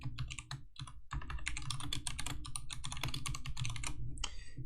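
Rapid, continuous clacking of keys as notes are typed on a computer keyboard, close and fairly loud, with a brief pause near the start and then an unbroken flurry of keystrokes.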